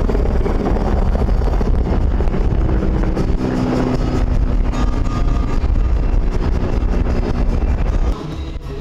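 Strong wind buffeting the microphone during an air show over the Volga, a loud, continuous low roar with steady gusting that eases slightly at the end.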